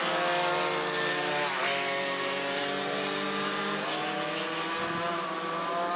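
Racing karts at a speedway kart track, a loud, continuous high-pitched engine whine with pitch sweeps as several karts pass close together, with no voices.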